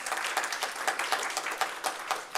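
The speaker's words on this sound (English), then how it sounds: "I think they deserve another round of applause." Audience applause for student senate leaders at a student senate meeting, a steady crowd of claps with individual sharper hits throughout, fairly close and moderately loud, no talking.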